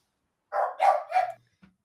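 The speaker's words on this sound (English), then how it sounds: "Puppy." A puppy lets out three quick, close barks in a row, alone against silence, followed by a faint short whimper.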